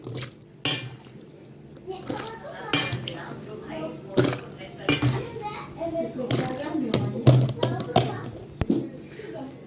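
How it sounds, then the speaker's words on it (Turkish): Hot pickled red peppers are spooned into glass jars with clinks and taps of utensils against glass. Someone talks throughout, and a voice is also heard. "Hemen turşumu sıcak sıcak kavanozlarıma alıyorum."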